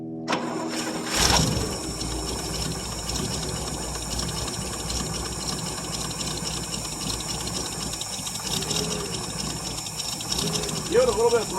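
Cranking and catching of a 1959 International B120 4x4 truck's engine on a cold start, a loud churning engine note that rises sharply near the start and then runs roughly and steadily, with voices calling out faintly at times.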